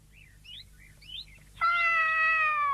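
A cartoon cat gives three short, rising meows, then lets out one long, loud, sustained meow that holds to the end.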